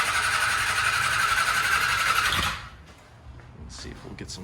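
The four-cylinder engine of a Honda MC19 CBR250RR motorcycle, a barn find, cranks on its first start in 18 years. It gives a loud, steady whirring churn for about two and a half seconds, then stops abruptly, leaving faint clatter and quiet background noise.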